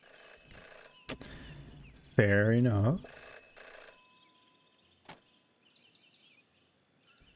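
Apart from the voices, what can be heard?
ringing phone booth telephone in video game Jenny LeClue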